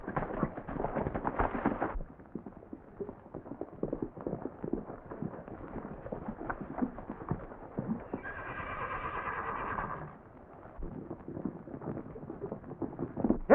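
Hooves drum in a rapid, continuous rhythm, with a horse whinnying partway through; the pounding rises and falls as the animals pass.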